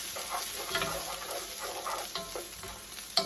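Celery sizzles and fries steadily in a pan for a risotto, with occasional stirring scrapes and a sharp clink near the end, no voices.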